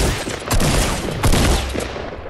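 Loud, close bursts of SCAR rifle fire in a shooter video game, several quick volleys cracking out over roughly two seconds with no talking.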